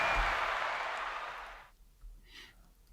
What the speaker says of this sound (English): I think that deserves an applaud